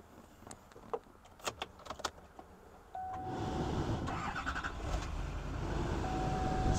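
Faint clicks and rattles come first, then a tow rig truck's engine cranks and catches, settling into a steady running rumble up close with a thin whine.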